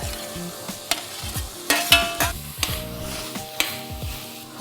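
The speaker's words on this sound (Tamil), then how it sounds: "ஓகே, நம்ம வறுத்து வச்சிருக்கிற கத்திரிக்காயை உள்ள சேர்த்துருவோம் இப்ப." Fried brinjal stirred and sautéed with onion and tomato in a pan, repeated scraping strokes of a spatula over a steady sizzle, close and clear, with no voices.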